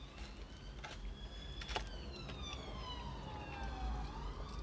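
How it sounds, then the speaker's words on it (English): A police car siren wails as the vehicle passes along a street, its sweeping tone audible over steady traffic and background noise at moderate distance. "Another police car. This is the third one coming this way now."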